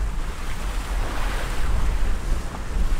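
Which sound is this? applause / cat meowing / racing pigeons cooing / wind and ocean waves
wind and ocean waves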